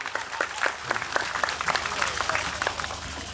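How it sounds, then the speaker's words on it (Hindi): Audience applause at a Shrimad Bhagavat Katha religious gathering in a village in Amethi, a steady burst of many hands clapping with some crowd murmur. "जोरदार तालियों की गड़गड़ाहट हो जाए"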